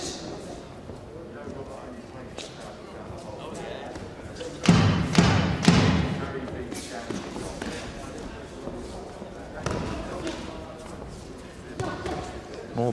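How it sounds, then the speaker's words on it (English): Body punches landing in a professional boxing bout between Flynn and Quinn, a cluster of dull thuds near the end of the second round, heard over constant crowd noise and commentary. "More body shots from Flynn, closing the action for the second round"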